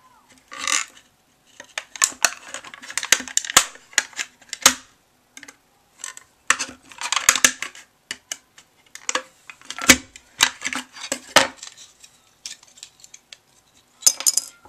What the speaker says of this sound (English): But I'm just going to quickly cut off this last part.